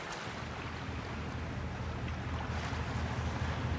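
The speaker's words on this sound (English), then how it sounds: "The boats are following a long tradition." Tuna fishing boats out on the open Atlantic, a steady low engine rumble mixed with wind and wash of the sea, constant and moderately faint with no voices.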